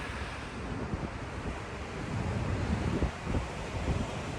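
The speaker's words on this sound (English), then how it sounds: "those big waves floating in" Big ocean waves roll in on a South Australian coast, a broad continuous roar of surf with heavy wind buffeting the microphone.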